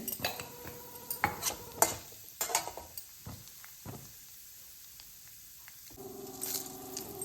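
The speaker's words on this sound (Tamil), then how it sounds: "கடலைப்பருப்பு உளுந்த பருப்பு நல்லா வந்து ஃப்ரை ஆகட்டும் கடுகு" Chana dal and urad dal with mustard seeds frying in hot oil in a pan, giving a steady near sizzle broken by sharp spatula scrapes and clinks against the metal, quieter in the middle before the sizzling swells again.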